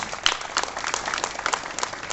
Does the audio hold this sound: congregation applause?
yes